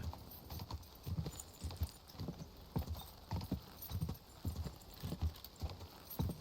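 A horse in medieval Bohemia in Kingdom Come Deliverance II clip-clops at a steady ride. Its hooves land in a regular rhythmic pattern, close and moderately quiet, with no talk over them.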